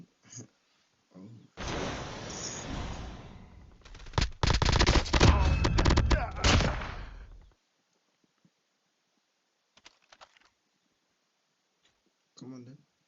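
Gunfire in the mobile shooter Call of Duty Mobile, a dense burst of rapid automatic shots and explosive cracks lasting several seconds, loud and close, followed by quieter game sounds and a brief voice near the end.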